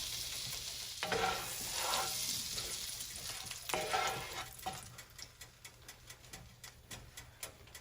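Butter melting around steak pieces in a pan for country fried steak, starting with a few soft swells of hissing sizzle that settle into faint, regular ticking pops, quiet and close with no talking.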